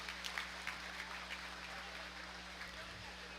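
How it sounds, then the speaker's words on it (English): Light, scattered clapping from a small crowd at a county fair 4-H and FFA swine show, applauding junior exhibitors, steady for a few seconds over a low constant hum. "let's give a nice round of applause for all these junior exhibitors out here"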